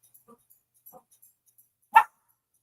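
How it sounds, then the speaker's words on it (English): Dogs shut out of a room bark from beyond a closed door: a few faint muffled yips, then one sharper, louder bark near the end, with quiet gaps between. "My dogs are mad because they can't get in here."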